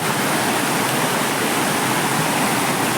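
A village waterfall in Konkan pours steadily in a dense, loud, unbroken roar of rushing water with no voices.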